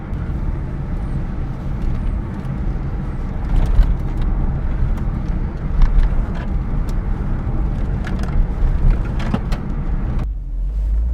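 Cabin noise inside a moving Chevrolet C5 Corvette with bad alignment and stiff suspension: steady low road and engine drone with scattered rattles and clicks, ending with a brief drop as the car slows.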